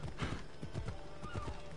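Horse hooves clip-clop at a steady trot in Assassin's Creed Odyssey, close and continuous over a dense layer of ambient game noise.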